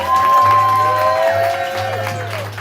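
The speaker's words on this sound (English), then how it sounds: "give him a round of applause as loud as you can, a round of claps, a round of snaps" Cheering crowd and applause from a live poetry audience, a steady, loud wash of claps and voices filling the room throughout, with some tonal music or feedback running beneath.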